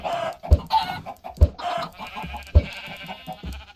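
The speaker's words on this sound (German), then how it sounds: "Ein Küken." A chick in Minecraft, a run of short clucking chirps with sharp thumps, close and fairly loud, with no talking.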